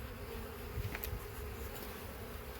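Honey bees hum at a hive while a package is installed, a low steady buzz that stays moderately faint and continuous throughout.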